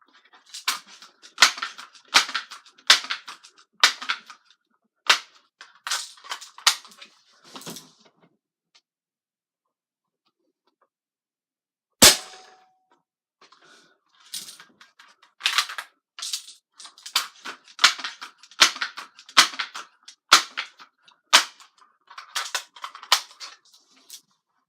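Umerex NXG APX air rifle firing pellets at a target, sharp dry snaps and clicks in quick irregular series, with a pause and one louder crack midway.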